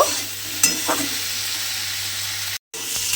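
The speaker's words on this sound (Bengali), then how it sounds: "এবারে ঢ্যাঁড়সটাকে আমাকে খুব ভালোভাবে একটু ভেজে নিতে হবে" Steady oily sizzling of okra frying in a pan until reddened, with a couple of faint stirring clicks and a brief drop-out near the end.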